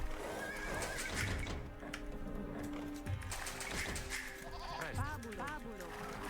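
Sheep bleating in an Age of Empires DE match, several short game-sound bleats mixed with horse whinnies and other in-game effects over a steady background.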